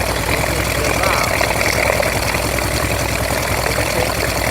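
A freshly rebuilt Honda motorcycle engine idles loud and close with a steady chugging rhythm, while a voice talks faintly beneath the running motor.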